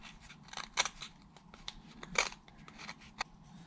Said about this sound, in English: Try turning it around and do a pull cut instead of a push cut.